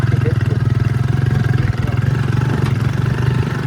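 Motorcycle engine running while riding through farm fields, a loud close throbbing drone with a steady pulsing rhythm and a brief dip midway, wind noise layered on top.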